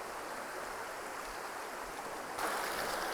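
A small brook in New Hampshire brook trout country flows steadily and close by, a continuous broadband rush of water that swells a little louder near the end.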